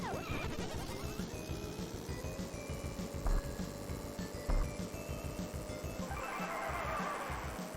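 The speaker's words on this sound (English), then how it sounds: "was that just horses that ran across the track?" Horses neigh in a Super NES racing video game as they run across the track, several synthesized whinnies over a constant game soundtrack and engine hum.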